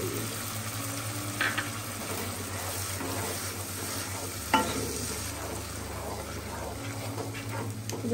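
Masala paste of ground cashew and dried chili fries and is stirred in a pan, giving a steady sizzle with scraping stir strokes and a few sharp clacks of the utensil against the pan.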